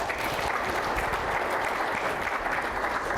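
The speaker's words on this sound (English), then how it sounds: "Round of applause for Ed." Audience applause for a speaker at a conference session on content delivery: steady, fairly quiet clapping from a seated crowd, continuous throughout with no voices standing out.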